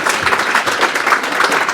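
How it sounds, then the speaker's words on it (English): Applause from an audience at a tech startup pitch competition, a dense, steady wash of many hands clapping at once, sustained and fairly loud throughout with no gaps. "give the pitchers a round of applause"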